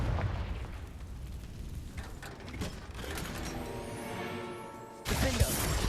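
Confringo blasting spell in Hogwarts Legacy, a dense mix of crackling magical bursts and mechanical rattling that ends in a sharp, loud blast, with no talk.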